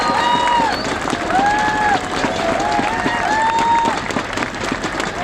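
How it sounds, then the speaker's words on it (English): An audience at a teacher rally panel discussion applauds, with dense sustained clapping and scattered whoops and cheers throughout, close and loud. "let's have one more round of applause for them"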